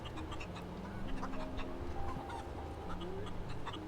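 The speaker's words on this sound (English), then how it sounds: "I hear a chicken." Chickens clucking in a video game, faint repeated clucks and short calls scattered over a low background hum, fairly quiet and distant throughout.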